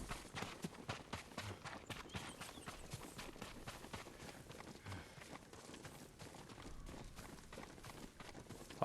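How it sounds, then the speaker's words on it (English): A horse's hooves clip-clop in the video game Ghost of Tsushima, a quick, irregular run of soft thuds at low volume that continues throughout, with no talk over it. "Yuriko's horse."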